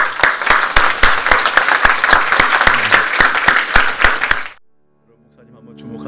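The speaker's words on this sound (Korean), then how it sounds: "그 주님께 감사의 박수" Church congregation applause of thanks during a sermon, a dense rhythmic clapping with many hands beating almost in unison, loud and close, then stopping abruptly before a soft sustained keyboard tone comes in.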